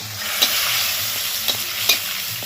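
Chopped shrimp and tomato frying together with spices make a dense, close sizzle, punctuated by three sharp spatula taps against the pan, with no voices.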